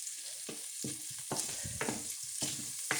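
Spices, including turmeric powder, are stirred in a hot frying pan: a steady sizzle runs throughout, broken by repeated scraping spoon strokes about every half second, close and fairly loud.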